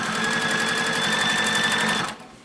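A sewing machine runs steadily for about two seconds, stitching binding onto a quilt with a 1/4 inch foot, close and even with a constant whir, then stops abruptly.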